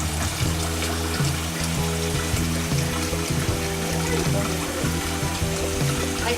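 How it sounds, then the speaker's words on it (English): Water is pressed out of rinsed noodles for Lao curry noodle soup, a continuous close trickling and running of water that stays steady throughout, with no talk. "this is how I rinse the noodle out. You just press the water out"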